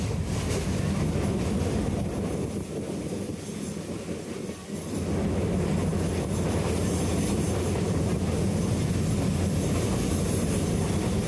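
A morning train heading to Sylhet rumbles steadily along the rails, with a continuous broadband roar that dips briefly in the middle before resuming, close and sustained throughout.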